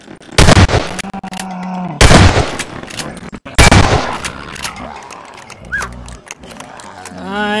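Loud, bursty gunfire in the Combine Alliance vs Zombies video game, three heavy volleys of rapid shots separated by short pauses, with growls and other game effects in between.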